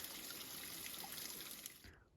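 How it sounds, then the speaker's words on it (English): Water from a piped spring along the Pacific Crest Trail trickles in a steady, faint, close stream that cuts off near the end. "It's actually one of 2 springs, both piped"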